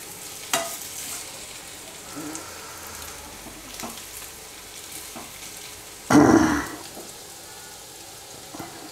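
Coriander vadi (kothimbir vadi) fries in hot oil with a soft, steady background sizzle, broken by a few light stirring knocks and one loud, brief burst of hissing spatter.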